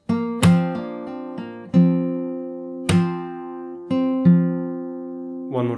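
Opening of a song in fingerstyle on acoustic guitar: a steady run of plucked notes and ringing chords, clear and close, ending in a brief string slide.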